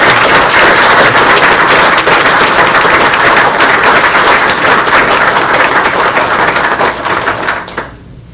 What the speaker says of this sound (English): And one more hand of applause for these dedicated individuals and the service they